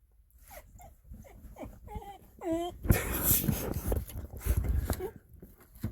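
An excited dog whimpers and whines in short high-pitched rising cries, close by, on a Sunday morning in a cabin, with a person talking and background bustle over the later part.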